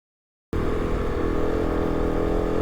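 After half a second of silence a motorcycle engine, a KTM-based rally bike, starts up loud and close with a steady rumbling drone as it heads up a small rocky slope.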